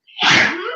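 A single sharp sneeze from a woman during an interview, close and loud, a short burst that trails off quickly.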